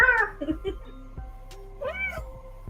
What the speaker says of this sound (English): That is a noisy cat.